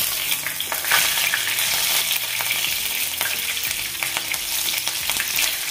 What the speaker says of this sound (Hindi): अब इसमें हम जीरा डालेंगे, ये जीरा हम चला देंगे। हम मिर्ची डालेंगे,